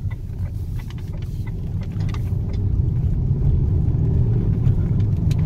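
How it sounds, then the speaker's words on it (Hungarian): An Opel Astra H Caravan 1.6 Sport pulling away under acceleration: a steady low engine rumble that swells and grows louder over a few seconds, heard from inside the car with no talk. "Nagyon szépen megugrik az autó, hogyha odaléptek neki."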